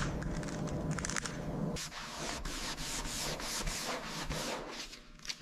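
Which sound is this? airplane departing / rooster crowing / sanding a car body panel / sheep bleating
sanding a car body panel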